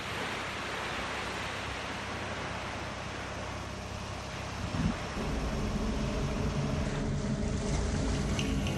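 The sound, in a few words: landing craft heading for the beaches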